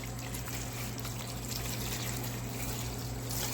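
Vinegar pours steadily into a bath holding a rusty lug wrench, a continuous close trickling and splashing of liquid with a faint low hum underneath.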